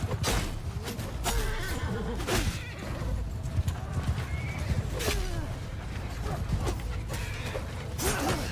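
Cavalry horses neigh and whinny repeatedly amid a noisy Bannerlord battle, with clattering hooves and constant combat din layered underneath, loud and close throughout.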